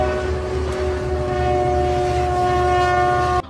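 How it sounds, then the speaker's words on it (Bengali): A snow blower train roars steadily with a long, loud sustained horn blast over heavy low rumble, close and continuous until an abrupt cutoff. "একার হাতে রয়েছে প্রায় 2000টি স্নো ব্লোয়ার ট্রেন।"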